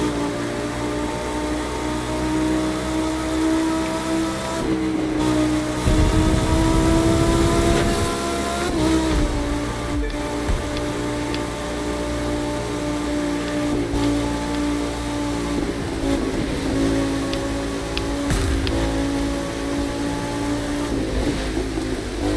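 Rain in the racing game The Crew 2 keeps up a steady hiss beneath a loud, constantly revving car engine, with a rougher low rumble partway through and the engine dominating throughout.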